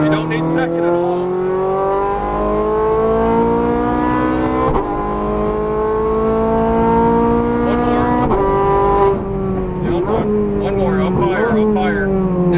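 A Ferrari 430 Scuderia engine wails loudly around a Las Vegas race track with rising revs through the gears and short dips between shifts. An instructor talks over the engine.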